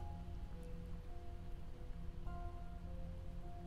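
Rain falls steadily in the Project Zomboid video game, a continuous patter on surfaces with a faint tonal drone beneath it and no speech.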